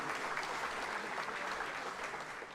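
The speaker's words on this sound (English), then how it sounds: "Another round of applause for Damon." Audience applause at a Saluki Athletics hall of fame ceremony, a dense steady wash of clapping from a seated crowd that holds evenly through the whole stretch.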